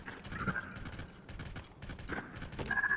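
A horse's hooves clip-clop steadily in the Zelda: Tears of the Kingdom video game, faint and rhythmic beneath soft ambient game sounds.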